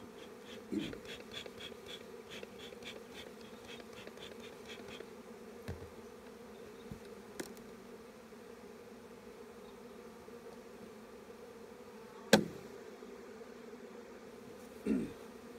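Honey bees at an open beehive during spring management hum in a steady, continuous drone close by, with a few faint taps and clicks over the buzz and no voices.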